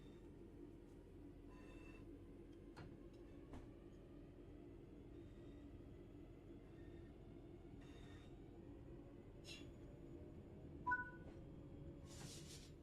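A train in a train-driving video game rolls forward at low speed, a faint steady rumble with scattered clicks, a few squeals and one brief clunk.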